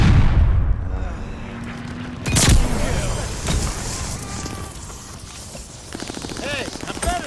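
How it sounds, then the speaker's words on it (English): Stun grenade going off in a multiplayer shooter during a hardpoint match, a sharp loud bang partway through amid gunfire and game noise, with voices talking. "Watch the stun grenade."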